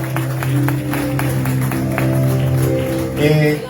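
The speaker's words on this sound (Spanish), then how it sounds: "si va a aplaudir, apláudale fuerte al Señor" A church congregation claps during a sermon, with steady, close applause running throughout under sustained tones and a speaking voice.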